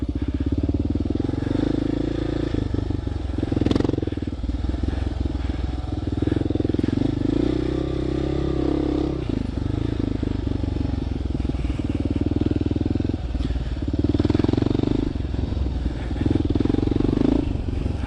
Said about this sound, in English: Oh, to be a kid on a little dirt bike.